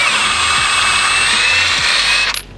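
Impact wrench with a 21mm socket driving out an engine mount bolt on an MK8 Golf R, a loud continuous rattling hammer-whir for over two seconds before it abruptly stops.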